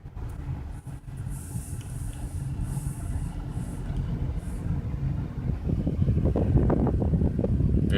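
A car drives slowly through the grounds of the abandoned Camelback Colonnade mall. A steady low rumble of engine and tires mixes with wind noise and grows slightly louder toward the end, with no voices.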